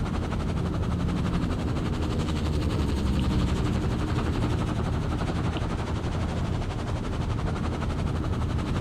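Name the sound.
small plane trying to take off in Firewatch video game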